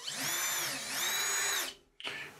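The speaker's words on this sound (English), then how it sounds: "You can use a Phillips screwdriver or an electric driver, as I'm doing." An electric screwdriver removes Phillips screws from a Samsung dryer panel, giving a close, high whirring whine that wavers in pitch, stops briefly, then starts again for a short second burst.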